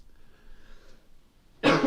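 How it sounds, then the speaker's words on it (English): Near silence with faint background hiss, then a single sharp, loud cough bursts out at the very end. "Just coughing COVID everywhere"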